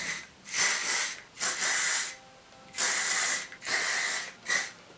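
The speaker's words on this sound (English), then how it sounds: "I might spritz a little bit of hairspray on." Hairspray spritzed onto curly hair in repeated short hissing bursts, about five or six sprays of uneven length separated by brief pauses, close and loud, with no talking.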